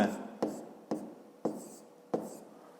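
Pen strokes on paper while working a fifth-grade maths exercise: five distinct taps and scratches spaced about half a second apart, close and crisp.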